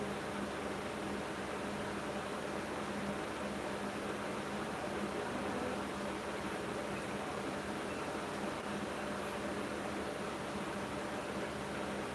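An electric fan runs in a room, a constant, unbroken whooshing hum of moderate level that lasts throughout with no other sounds.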